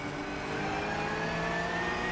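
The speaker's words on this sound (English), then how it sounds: "I'm back with the noisy car." A race car engine revving in a racing game played during a livestream, a steady, faint droning engine tone holding a fairly even pitch throughout, with no talking.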